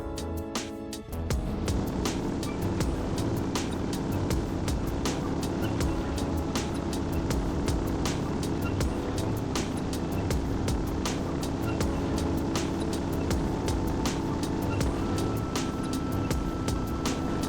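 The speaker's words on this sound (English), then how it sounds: "we'll want to pay attention on a flat speed test to see which gear it makes it to" A tank engine in the game Sprocket roars continuously as the vehicle accelerates on a flat speed test, a loud steady mechanical drone with regular rattling ticks throughout.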